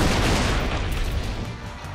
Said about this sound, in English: I hope I never have to hear those pistols again